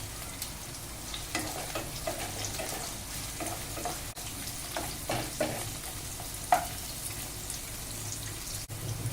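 Garlic and ginger sizzle with sliced onions in hot oil in a home kitchen pan, a steady close frying crackle with occasional stirring scrapes and clinks, no talk.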